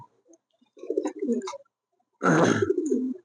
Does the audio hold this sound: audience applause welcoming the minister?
no